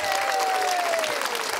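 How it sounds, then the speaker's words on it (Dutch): An audience claps at a nightclub show, with dense sustained applause throughout and a held tone running under it. "Blijf klappen."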